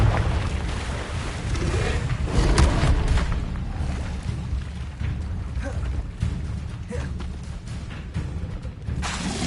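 Spell explosions during combat in Hogwarts Legacy, low rumbling booms and blasts layered over a continuous dense roar of game effects, with no voices.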